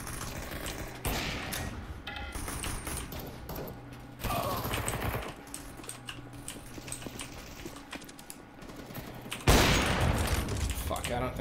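Gunfire in the Counter-Strike video game, with bursts of shots and thumps over a busy in-game mix, a loud burst near the end, and a player's voice heard at times.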